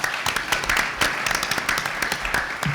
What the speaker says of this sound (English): How about a round of applause for Andre?